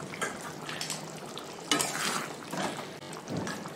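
A spoon works through thick meat curry in a hot pan, a steady sizzle of frying with soft scraping stirs and occasional clinks, close and continuous.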